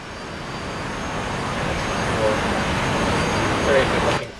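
MB-339A jet in the DCS flight simulator flying fast, a steady, broad jet engine roar that swells slightly, with someone speaking over it.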